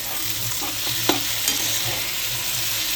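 Onions and tomatoes fry in a pan for chicken gravy, sending up a steady close sizzle while a spoon stirs and scrapes through them with a few sharper clinks.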